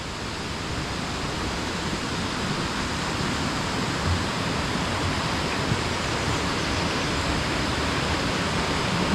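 Fast-flowing stream water in a wooded valley rushes in a loud, unbroken hiss that stays close and constant with no voices over it.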